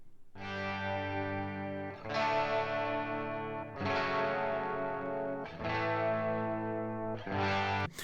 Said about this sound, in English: simple strums part that sounds like this.